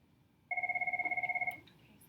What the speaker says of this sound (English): I'm not going to answer the phone in the middle of the lesson.